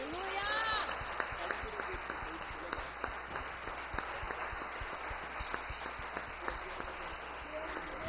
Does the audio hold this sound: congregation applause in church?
yes